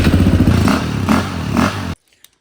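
A Suzuki LTR450 quad runs loud and close with a rough, throbbing idle and slight rises in revs, then cuts off abruptly into silence, leaving only a couple of faint clicks.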